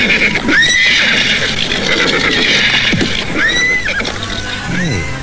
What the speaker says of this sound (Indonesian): Mereka terus berkuda hingga tiba di gerbang timur dari kota Raja Galuh.